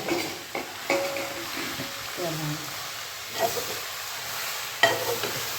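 Wild takla leaf greens are stir-fried in a pot, with a soft steady sizzle and hiss broken by scraping, clinking stirring strokes, while people talk quietly nearby.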